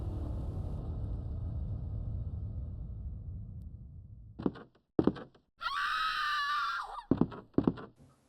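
A stock scream effect from the 1998 survival-horror game Resident Evil 2, set in a police station: a loud, sustained high shriek rises out of a low rumbling ambience and is framed by sharp thuds and short bursts.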